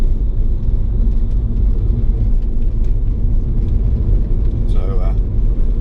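Volkswagen 1300 Beetle cruising on a mountain road, its engine a steady low rumble with road noise throughout, while someone talks over it.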